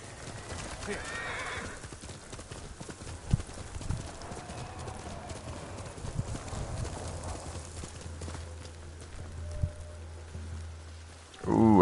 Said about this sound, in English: Let's go get on the horse.